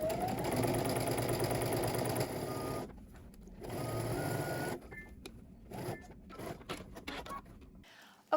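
A sewing machine stitches a casing seam on a Simplicity 3167 garment, running in bursts of rapid mechanical whirring with brief pauses and a final stop.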